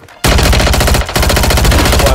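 Rapid automatic gunfire in the video game Call of Duty Warzone on Rebirth Island, two loud close bursts of fast shots separated by a brief pause.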